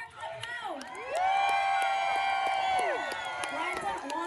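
Crowd aboard a Royal Caribbean cruise ship cheers and whoops for a contestant with a little clapping, swelling into a loud, drawn-out shout that holds for a couple of seconds before tapering off.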